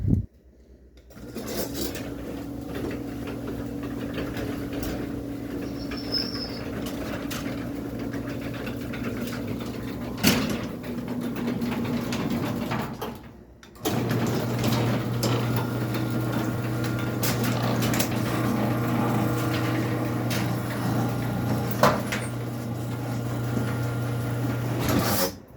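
A custom Craftsman belt-drive garage door opener fitted to a Sears pan door runs with a steady motor hum and faint ticking, pauses briefly midway, then resumes its drone at a slightly lower pitch.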